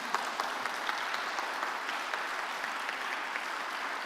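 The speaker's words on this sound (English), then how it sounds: "Another round of applause for Dr." Audience applause after a lecture on the moral foundations of American politics, a steady, even round of clapping from a seated crowd, moderately loud and unbroken for the whole stretch.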